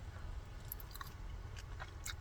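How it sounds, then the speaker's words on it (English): Crunchy vegetables in a pesto salad with spinach and parmesan are chewed close to the mic, with soft, irregular crunching bites over a low background hum in a camper van on the California coast. "The veggies are crunchy."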